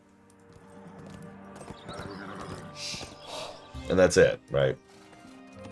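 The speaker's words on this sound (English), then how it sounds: "my scout here's unit barks are just a horse going." A horse neighs and whinnies as a scout unit's acknowledgement in the Age of Empires strategy game, with two loud snorting bursts near the end, following someone talking over faint game sounds.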